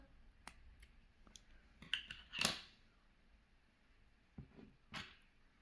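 Scissors snip through the loose end of crochet yarn: a few light clicks, then one sharper, louder cut near the middle and a couple of faint snips afterward, close and isolated in a quiet room.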